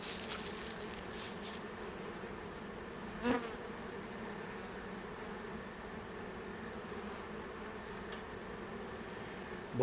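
A honeybee colony hums in a soft, continuous drone of many wings, steady and fairly quiet, with a brief bump of handling noise partway through.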